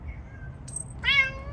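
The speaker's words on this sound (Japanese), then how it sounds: "突然遠吠えをするニャーゴ" A former stray cat lets out a short, drawn-out yowl, loud and close in a quiet outdoor setting, preceded by a faint high chirp.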